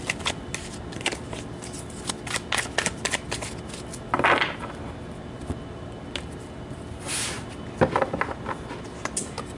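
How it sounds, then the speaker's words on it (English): Tarot cards being shuffled by hand, with repeated crisp riffling bursts and soft slaps spread irregularly over several seconds, close and fairly quiet, with no talking. "let's pull some tarot to get more information about these two cards"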